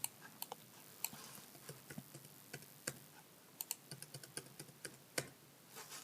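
A password being typed on a computer keyboard, soft irregular key clicks in short runs with occasional louder taps, faint and close in an otherwise quiet room.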